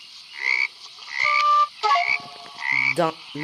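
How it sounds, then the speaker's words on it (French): Cartoonish frog croaks in short bursts alongside bright chiming game tones in the video game 99 Nights in the Forest, several croaks spaced across a few seconds, no talking. "Oh, c'est les grenouilles."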